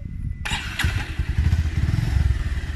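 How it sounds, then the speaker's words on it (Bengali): A Bajaj Pulsar 150 twin-disc motorcycle is started: after a brief silence the engine catches abruptly and settles into a loud, close, steady idle with a throbbing low rumble. "আমি এখন বাইকটি স্টার্ট করছি।"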